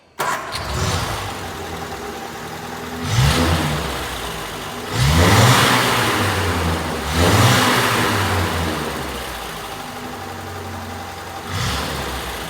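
A 1950s Standard 10 car, its head gasket recently repaired, cranks and fires up, then its engine revs in several loud surges before settling back to a steady idle, close by with no talk.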